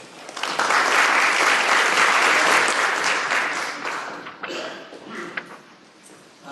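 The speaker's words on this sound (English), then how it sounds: "Round of applause for Damien." Dense, sustained applause from a conference audience welcoming a speaker at a tech and innovation talk, swelling quickly, holding steady, then thinning into a few scattered claps as it fades.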